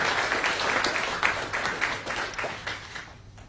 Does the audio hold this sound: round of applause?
yes